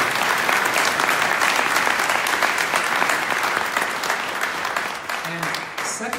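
Warm audience applause for Brandon at a congressional candidate forum, steady dense clapping from a crowd that gradually thins toward the end.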